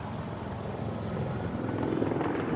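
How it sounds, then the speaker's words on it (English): An LAPD police helicopter drones steadily overhead in Los Angeles, a constant low rotor rumble at moderate distance, holding level throughout with no voices. "we're seeing an LAPD helicopter now circling overhead"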